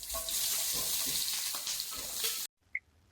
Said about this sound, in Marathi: कांदा चांगला तेलामध्ये परतून घेऊयात।